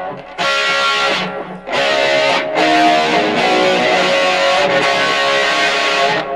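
An electric guitar plays a bright, slightly distorted melodic line in sustained phrases, dry and close with no reverb, a 1985 live tone, with short pauses between notes and no voices.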